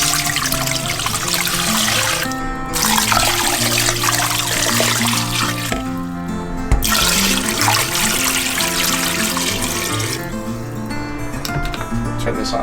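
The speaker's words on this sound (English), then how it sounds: "So let's cover it with water." Water pours steadily into a pot holding pork belly for broth, a continuous splashing trickle close by with music playing underneath throughout.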